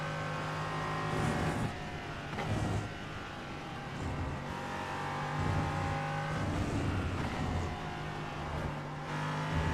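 LMP3 race car engine in the iRacing simulator, a steady layered drone with revs rising and falling over about ten seconds, loud and continuous with no talk.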